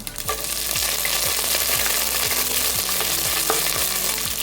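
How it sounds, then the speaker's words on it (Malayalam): Curry leaves and chillies sizzle loudly in hot oil in a pan, a steady crackling fry with scattered pops and regular faint stirring scrapes, no voices. "കറിവേപ്പിലയും അതുപോലെ മുളക് കൂടി ഇട്ട് കൊടുക്കാം."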